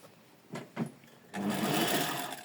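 A serger runs a straight seam on elastic, starting about a second in with a steady, close whirring hum that continues to the end after a couple of short handling sounds.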